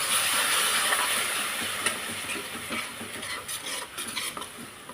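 A spoon stirs green peas gravy with curd in a pan, wet scraping and hissing simmer up close, steady at first and then breaking into irregular stirring strokes.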